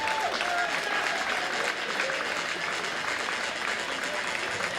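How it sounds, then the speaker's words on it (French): Outdoor crowd applauding the winner of a 10 km road race at a château, steady dense clapping throughout with cheers and a voice over a loudspeaker mixed in. "allez faites du bruit s'il vous plaît."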